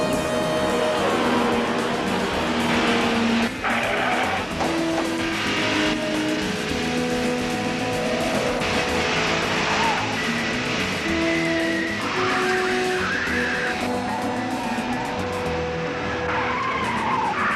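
A speeding car with the pedal floored, tires squealing and skidding repeatedly over a constant loud engine roar, in a long continuous burst without any talk.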